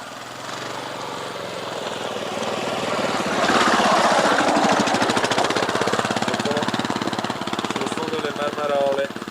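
A motorcycle engine approaches along a mountain trail near Pian dei Buoi, its fast pulsing growl rising to a loud, close peak and staying strong, with a voice speaking over it.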